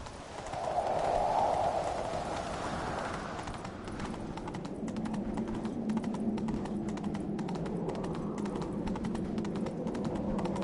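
Horse hooves clip-clopping at a steady trot in the video game The Witcher 3, a continuous rhythmic patter of hoofbeats close by, with a brief louder rustle near the start.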